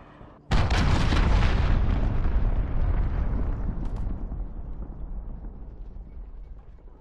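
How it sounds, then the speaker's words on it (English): A cruise missile strike in the Call of Duty Modern Warfare multiplayer beta: after a quiet moment, one sudden, loud, close blast erupts into a long, rolling rumble that slowly fades over several seconds, with no voices. "Allied cruise missile launched."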